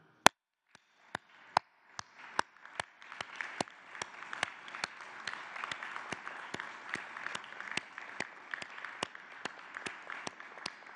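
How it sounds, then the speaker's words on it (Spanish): A lone clap, then a few scattered claps that build into steady rhythmic applause from a small crowd at an event honouring a Mexican judoka's silver medal, moderately distant and without talk. "Un aplauso."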